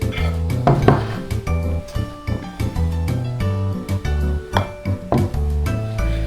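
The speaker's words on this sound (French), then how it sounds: "On n'oublie pas de gratter comme ceci pour éviter, voilà, qu'il y ait trop de pertes" A utensil scrapes chocolate cake batter from a mixing bowl, giving a steady run of clinks and scrapes against the bowl, close and fairly loud, with no talking.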